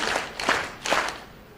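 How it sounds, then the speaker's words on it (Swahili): An audience claps together at an e-government working session, with a few brief bursts of applause standing out over a steady wash of hand noise. "Naomba tumpigie makofi matatu."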